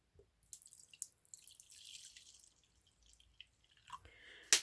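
Coffee mixed with red fruit tea dye pours in a thin trickle into a container for dyeing paper, soft intermittent drips and splashes in a quiet room, ending with a louder splash.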